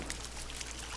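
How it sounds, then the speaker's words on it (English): Shower water running in the jungle survival game Green Hell, a steady hissing spray that stays level and fairly loud for the short moment, with no voices over it. "Oh, let me go take a shower."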